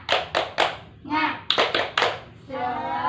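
Schoolchildren in an Indonesian classroom do a rhythmic 'tepuk semangat' cheer clap. Quick bursts of hand claps alternate with chanted voices, loud and close.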